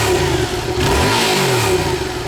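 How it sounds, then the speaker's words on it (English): A new motorcycle's engine revs up and down close by, the throttle rising and falling in steady swells over a continuous loud running drone, with no talking. "So let me go ahead and rev it up a little bit."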